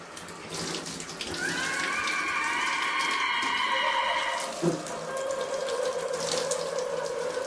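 A shower runs in a horror film scene where a blood-covered killer stands under the water, giving a steady hiss of spraying water that holds throughout, with a faint tone and brief knock partway through.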